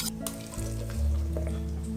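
Gelatin is stirred into warm cream for a mango panna cotta, with a soft, continuous sizzling hiss and a few faint clinks of the utensil against the pan. No one speaks.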